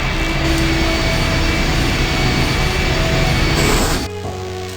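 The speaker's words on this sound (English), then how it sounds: "The engine's starting up again." A loud, steady low mechanical engine roar in the I Have No Mouth, and I Must Scream video game, droning continuously before dropping to a quieter hum near the end.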